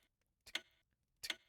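Two brief mechanical clock ticks from the video game We Were Here Together, about three-quarters of a second apart, crisp and close against near silence.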